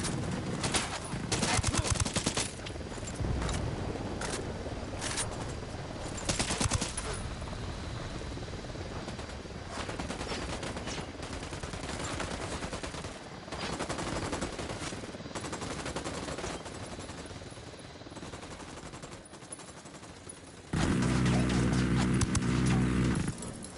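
Gunfire during a cartel firefight in Ghost Recon Wildlands, with repeated bursts and single shots over a busy mix that includes hoofbeats and a helicopter-like drone. The gunfire comes and goes loudly across about twenty seconds.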